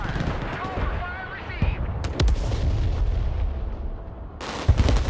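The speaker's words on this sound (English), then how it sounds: "Fire mission received. Order ready to fire." Artillery fire mission in the Broken Arrow military game: a rolling series of heavy booming cannon shots with sharp cracks and long rumbling tails, loud and close, while a radio voice talks over the start.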